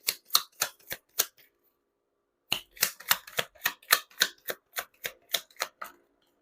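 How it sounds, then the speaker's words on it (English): Tarot cards being shuffled by hand, a quick run of crisp riffling snaps, then a short pause and a longer rhythmic burst of sharp card slaps, close and clear with no talking. "You saw me shuffle."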